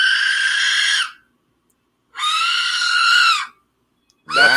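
A small 3D-printed whistle gives a shrill, scream-like wail resembling a woman screaming, sounded in three loud blasts, the first two long and sustained and the third cut short, with silence between them.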